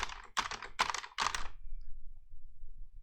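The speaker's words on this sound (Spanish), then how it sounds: "no sé si escucháis el teclado" Fingers type on a computer keyboard during a spreadsheet lesson in a quiet room: four short bursts of clicking keystrokes, then faint scattered taps and near silence.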